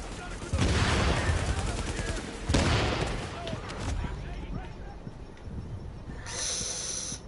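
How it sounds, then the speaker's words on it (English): Loud gunshot bursts ring out in an online video game firefight with a sniper, two big blasts followed by scattered shooting and a hissing tail, while a player talks over the action. "We gotta take out that sniper. That sniper is getting us."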